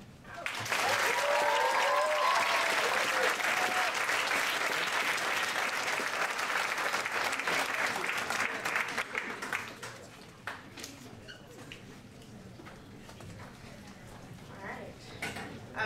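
An audience at a Blue Room poetry night applauds a poet's performance, loud, dense clapping with cheers for the first eight seconds, then thinning out to scattered claps and murmuring voices.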